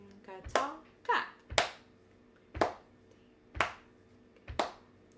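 Children in a Year 4 music class clap a spoken rhythm pattern together, six sharp group claps in an uneven rhythm, with faint chanting voices between them.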